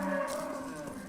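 Cattle lowing on an open grassland ranch where buffalo herds once roamed, a faint, drawn-out moo heard at a distance with soft background noise.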